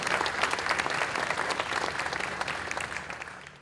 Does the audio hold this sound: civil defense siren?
no